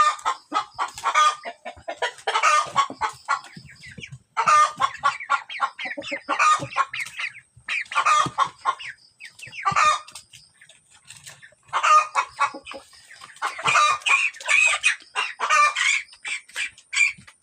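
Free-range 45-day-old chickens cluck in repeated bursts, several birds close by, with short quiet gaps between the bouts of chatter.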